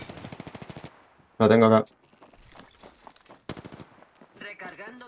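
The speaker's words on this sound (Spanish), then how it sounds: "¡Oh, me disparan!" A short, loud burst of automatic gunfire rips out in an Apex Legends match, sharp and close, between bits of hurried talk from players, followed by scattered shuffling and softer game noises.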